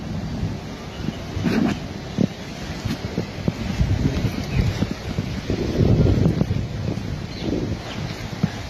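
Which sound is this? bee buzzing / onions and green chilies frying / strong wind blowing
strong wind blowing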